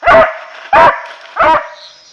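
A hound dog gives three loud, close barks at an even pace, each a deep resonant bay with a short trailing tail, and silence between them.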